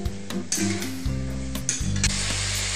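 Spices and chicken being stirred and fried in a pan for a chicken curry, with a loud, close, steady sizzle broken by scraping stirs.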